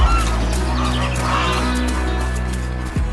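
Geese honking in an animated farm scene by a clear lake, a loud steady layered cartoon soundtrack with honks blended into music and effects.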